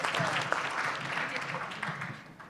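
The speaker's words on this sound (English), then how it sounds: "So I'd love to give another round of applause to all of our wonderful students today." A crowd of students and guests at a competition day applauds in a broad, even patter that fades slightly toward the end, with voices mixed in.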